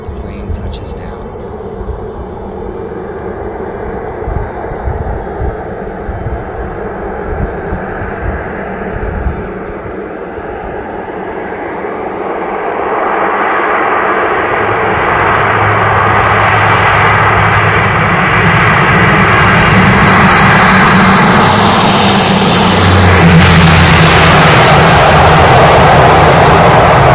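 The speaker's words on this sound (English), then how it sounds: "You can hear the 750-horsepower Honeywell TPE-331-10T engines being placed into thrust reverse and making a thunderous roar after the plane touches down." Twin 750-horsepower Honeywell TPE-331-10T turboprop engines on a landing plane go into thrust reverse after touchdown. A quieter engine hum swells midway into a loud, sustained, thunderous roar that lasts to the end, with a voice speaking.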